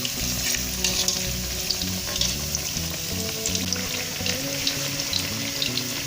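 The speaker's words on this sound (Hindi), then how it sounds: "इन चारों को जो स्लाइसों को हमने इस पर रख दिया फ्राई करने के लिए" Potato slices and pakora batter sizzle steadily in hot oil, a continuous crackling fry with small bubbling pops, accompanied by faint background music and no talking.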